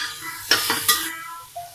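Diced onion cubes drop into a hot pan with a sudden burst of sizzle and a couple of sharp clattering impacts, then the frying settles to a softer hiss that fades away.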